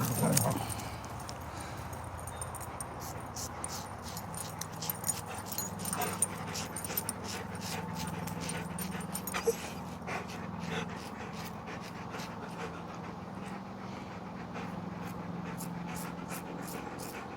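A dog whimpers and pants steadily up close, with faint jingling and light movement throughout and a brief voice near the start.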